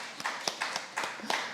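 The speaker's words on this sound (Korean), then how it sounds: "우리 장로님들한테 박수 한번 합시다." Church congregation applauding during a Sunday morning service, a sparse round of distinct claps with uneven spacing, fairly close and moderately loud.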